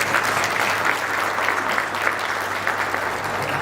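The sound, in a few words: applause from the audience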